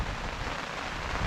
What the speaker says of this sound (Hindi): ऊपर से बारिश